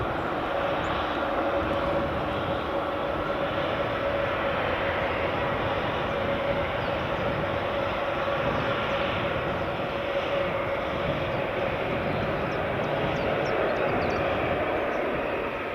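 A WestJet airliner taxis at Edinburgh Airport, its engines giving a steady, moderately distant whine and roar that holds evenly throughout with no voices.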